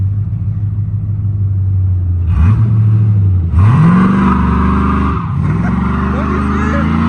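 An LS1-swapped G-body Malibu with a 5.7L V8, 4L60E transmission and posi rear end does burnouts, its engine revving hard in rising sweeps over screeching spinning tires, loud and close.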